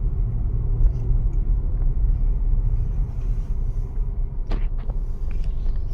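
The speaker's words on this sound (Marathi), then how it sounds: "आले आले आपली गाडी गेली आहे." Car driving off with a low, steady engine rumble nearby, then a brief sharp knock toward the end.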